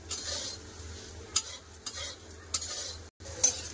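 Bitter gourd (karela) fries in a pan while a utensil stirs it, giving a steady soft sizzle broken by scraping strokes and one brief dropout near the end.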